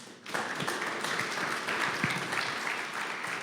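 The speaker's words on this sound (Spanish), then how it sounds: "Dale una ofrenda de palmas." A church congregation applauds in a steady, full wash of clapping that starts abruptly and carries on without pause.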